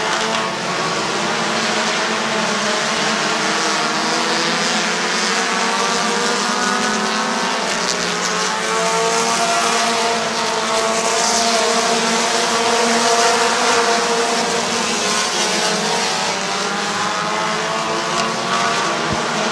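Stock cars racing at Midvale Speedway, a steady loud roar of several engines running together for the full stretch, with pitch shifting slightly as the cars circle the track.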